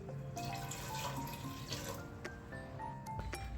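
Water pours steadily into a pot of soaking dried peas with a little turmeric, a soft continuous splashing and trickle heard close and quiet, with no talk.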